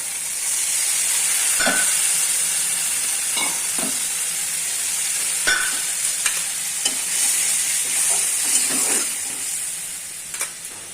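Masala frying in a pan sizzles and hisses steadily as water goes in, with scattered scraping and stirring strokes of a spoon throughout, close and fairly loud.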